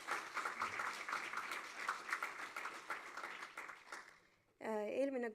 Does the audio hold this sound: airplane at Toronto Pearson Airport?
no